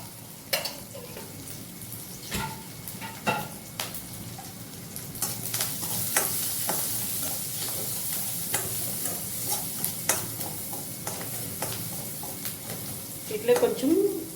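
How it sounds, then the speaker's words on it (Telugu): Chopped onions fry with a spoonful of turmeric in a pan for a Telugu chenikai pullu karam, a steady sizzle broken by repeated scrapes and stirs of a spoon against the pan. "ఇట్లా కొంచెం బ్రౌన్ వచ్చే వరకు ఎర్రగడ్డలు ఫ్రై చేసుకోవాలి."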